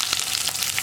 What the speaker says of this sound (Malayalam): നമുക്കിതിലേക്ക് നമ്മൾ കട്ട് ചെയ്ത് വെച്ചിരിക്കുന്ന ഉള്ളിയും കറിവേപ്പിലയും ചേർത്ത് കൊടുക്കാം.